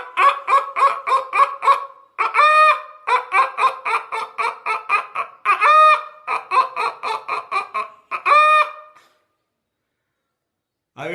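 A person vocally imitates a chicken, with rapid bursts of clucking calls repeated in quick rhythmic runs, close and fairly loud, broken by a few drawn-out squawks before falling silent.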